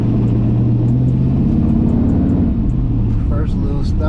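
A 1964 Chevy with newly installed power disc brakes pulls away on a test drive, its engine a steady, loud low rumble that rises slightly as it moves off, with faint higher noise near the end.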